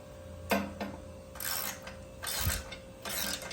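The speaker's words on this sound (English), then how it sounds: "All right, so 9/16 head socket wrench" A 9/16 socket wrench ratchets to tighten bolts during a RiG'd SideHack and UltraTable installation, giving a few short, close clicking bursts separated by brief pauses.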